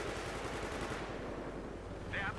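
A tank fires during a Battlefield 3 match, sending out a burst of loud, rapid gunfire-like blasts that fades after about a second, leaving dense rumbling battle noise and a short high whine near the end.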